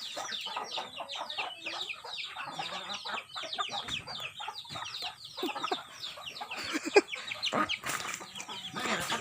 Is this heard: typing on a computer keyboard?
no